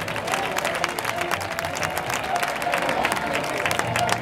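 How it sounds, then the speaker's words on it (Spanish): Clapping from a crowd at a final event in Pedrola comes as a dense, steady spatter at moderate volume, with a voice speaking over it in places. "Y este es el aplauso."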